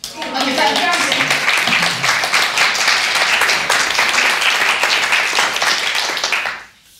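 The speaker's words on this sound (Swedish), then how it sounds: "En liten applåd." An audience applauds at a culture school event presenting Street Star Sisters, with dense, loud clapping sustained for several seconds before cutting off sharply at the end; faint voices mingle early on.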